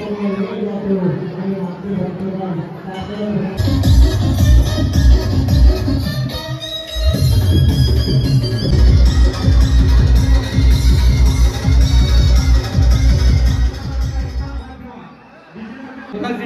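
A dense crowd at the Kelambadevi temple on the first day of Navratri, with loud, thumping DJ music pounding steadily over constant chatter and babble, and voices heard throughout.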